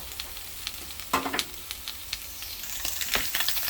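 Food sears in a frying pan for a quick rice-dish lunch, giving a steady broadband sizzle with scattered crackles and a few sharper spatters and utensil scrapes up close.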